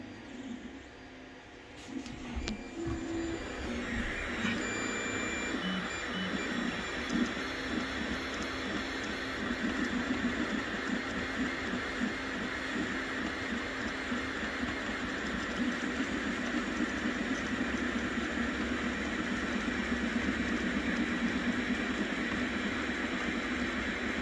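An Ender 3 Pro 3D printer runs with a steady mechanical hum and whir, its motors producing a constant busy texture for the whole stretch with no talking.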